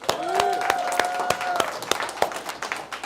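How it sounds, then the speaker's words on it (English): Audience applause for poets at a spoken-word poetry event, a loose patter of claps with cheering voices and a whoop rising over it, fairly close and steady before thinning toward the end. "Can we give them a round of applause?"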